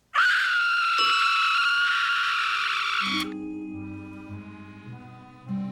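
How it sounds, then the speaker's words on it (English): A loud, high-pitched scream from a Coen Brothers comedy film scene holds for about three seconds, then cuts abruptly to quieter low tones beneath it. "The punchline to this technique was a scream"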